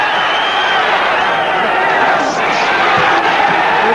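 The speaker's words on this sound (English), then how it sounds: "Here's the Cuban teammates of Solano cheering him on right behind us." A crowd of Cuban teammates cheers and shouts for their boxer from just behind ringside at an amateur bout, a steady dense roar of voices with shouts rising through the whole stretch.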